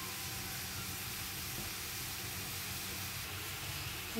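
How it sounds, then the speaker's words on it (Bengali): Tea with cardamom and two small bay leaves boiling hard over a high gas flame, a steady broad hiss and bubbling roar that holds constant throughout, close and without speech. "ছোট্ট দুটো তেজপাতা দিয়ে দিলাম, দিয়ে একটু গ্যাসটা ফ্লেম জোরে করে ফুটতে দিলাম।"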